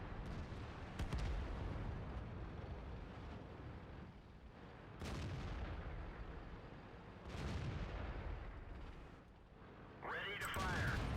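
A T-44 tank cannon in a tank video game booms in several heavy, rumbling blasts spaced a few seconds apart, each with a long low roll, over continuous engine-like rumble and occasional talk.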